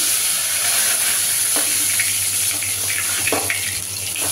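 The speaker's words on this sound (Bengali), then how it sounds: "ওই তেলের মধ্যে গোটা গরম মশলা আর জিরে ফোড়ন দিলাম।" Bay leaf and whole garam masala with cumin seeds sizzle in hot oil in a wok after frying a fish head, a steady close hiss with a few soft clicks and stirring touches, no talk.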